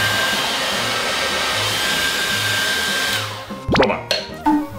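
A hair dryer blows steadily and loudly on a balloon made from tape, a continuous whooshing roar that cuts off after about three seconds, followed by a few short plastic rustles and squeaks.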